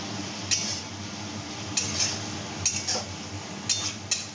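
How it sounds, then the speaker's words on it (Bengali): Kochu shak curry stirred in a pan, a handful of distinct metallic scrapes and clinks of a spoon against the pan, spaced irregularly over a low steady background hiss. "চল এবার নাড়িয়ে দিই।"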